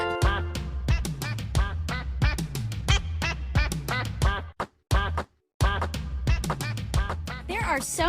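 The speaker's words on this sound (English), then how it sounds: "Wow! This is a duck!" A cartoon duck in a children's animal animation quacks in rapid, loud, nasal bursts that run almost continuously, with one brief silent gap midway.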